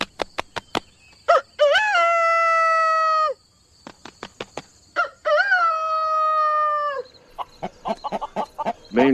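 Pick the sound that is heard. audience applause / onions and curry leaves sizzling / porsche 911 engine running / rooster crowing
rooster crowing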